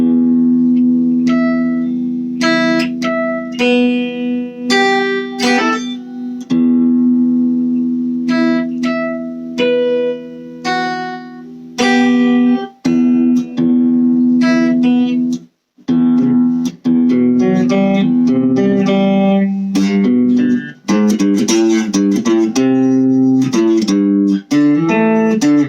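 Electric guitar played through a Blackstar V2 amp on its clean channel: sustained, ringing chords and single notes, loud and close, with a few brief pauses and no talking.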